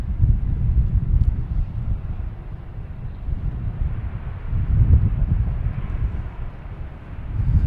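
An American Embraer E175 arriving from LaGuardia at Boston Logan Airport makes a low, steady, distant rumble that swells slightly, with wind buffeting the microphone.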